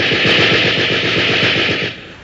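Radio-drama sound effect of a machine-gun burst from a street below, a rapid loud rattle of repeated shots lasting about two seconds before cutting off.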